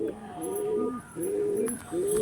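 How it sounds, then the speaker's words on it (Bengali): Andhra Lambadi pigeons, a rare-blood breeding pair, coo in repeated low rolling phrases, three swells spread over a couple of seconds, close by and moderately loud, with no one talking. "প্রচুর রেয়ার ব্লাডের পায়রা এগুলো"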